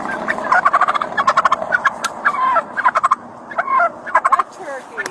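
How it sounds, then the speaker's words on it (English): A turkey gobbles repeatedly in rapid rattling bursts, close and loud, across several seconds with brief pauses between calls, encountered by a sheriff's deputy outdoors. "That turkey."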